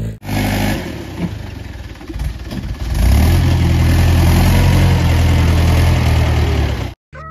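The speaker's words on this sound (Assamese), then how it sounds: "চাওক ট্ৰেক্টৰ মাৰা ষ্টাৰ্ট হৈছেহি" A heavy tractor engine idles loudly and steadily, rising into a deeper, stronger rumble partway through before cutting off abruptly near the end.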